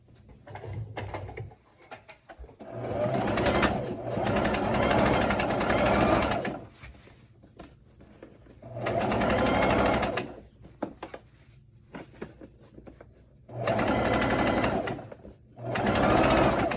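Sewing machine top stitching a seam on an evening dress, running in four bursts of steady, close mechanical whirring separated by quiet pauses.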